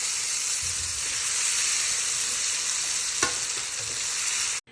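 Jackfruit pieces frying in hot oil for chakka chavanni, a steady loud sizzle running unbroken throughout with one brief clink partway, no voices.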